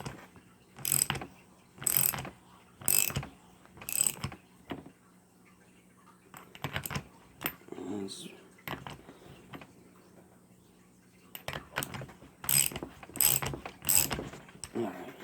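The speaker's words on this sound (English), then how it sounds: "I'm gonna go ahead and use my ratchet and see if I can pull it up some" A ratchet wrench clicks in short rhythmic bursts while pulling up a fuel distributor part on a Mercedes 560SL, with quiet pauses and faint handling noises between the sets of sharp clicks.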